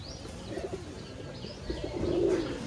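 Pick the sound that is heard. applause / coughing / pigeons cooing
pigeons cooing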